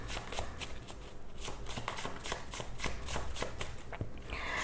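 Handmade tarot cards are shuffled in a steady run of crisp riffling flicks, close and fairly quiet, continuing evenly throughout.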